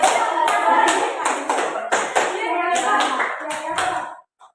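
A group claps in a patterned call-and-response game during a school training session, loud sharp claps arriving in short grouped bursts with voices mixed among them, then stopping near the end.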